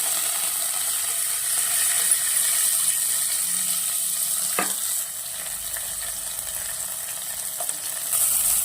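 Crushed garlic, radish and masala frying in hot oil with asafoetida, a steady close sizzle with a few brief clicks and a sharp stir clatter midway, no voices.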